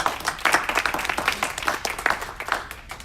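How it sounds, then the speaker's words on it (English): A smaller audience at a city meeting claps for a speaker, individual claps distinctly audible in a quick uneven patter that stays moderately loud across the few seconds, with no speech over it. "A round of applause."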